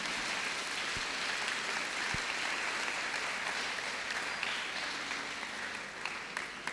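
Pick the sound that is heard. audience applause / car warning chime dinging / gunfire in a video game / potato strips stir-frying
audience applause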